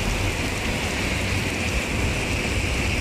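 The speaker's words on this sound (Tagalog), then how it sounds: "Lakas ang ulan mga kabunso" Heavy rain pours steadily in Abu Dhabi on a windy Friday morning, a dense, even hiss of downpour close by with no break, loud and constant throughout.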